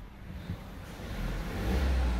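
An ordinary everyday car engine, nothing like a supercar, gives a low, close rumble that builds steadily louder over about two seconds, with no voices over it.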